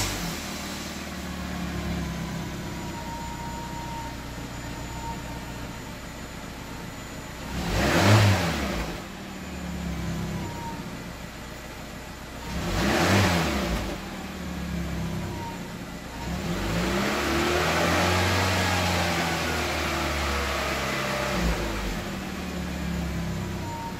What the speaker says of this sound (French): Donc là, on va démarrer et puis ensuite il y aura 3-4 accélérations pour que vous puissiez voir.